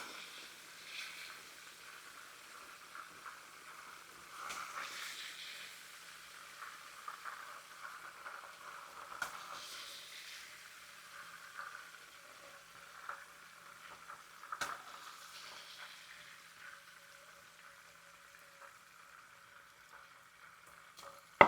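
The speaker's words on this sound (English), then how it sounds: "now we're going to take up our pork chop" A pork chop frying in a pan gives a faint, steady sizzle with soft crackles and occasional light clinks, heard alone without talk.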